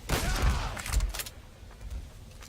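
A gunshot to the head in Garry's Mod, a loud booming shot followed by a few rattling echoes that quickly fade, with no talking.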